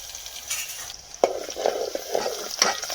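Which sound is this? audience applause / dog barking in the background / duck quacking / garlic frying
garlic frying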